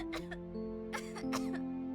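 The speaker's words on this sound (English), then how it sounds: "She started coughing right away, even as she sat up clutching the blankets close to herself." A woman coughs and clears her throat in a few short, harsh bursts inside the video game Cabin Fever, with a sustained musical tone humming underneath.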